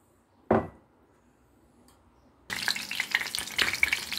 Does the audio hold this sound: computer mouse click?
no